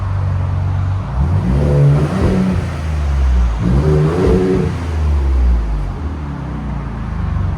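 A Ford Raptor with a 3.5L EcoBoost V6 and Borla exhaust revs twice, rising and falling, over a loud low engine drone close to the listener, with no talk.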